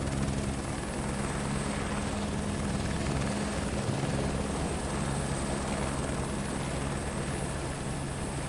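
Helicopter hovering in a flight video game, a dense, constant rotor and engine roar that stays steady and loud throughout without pause.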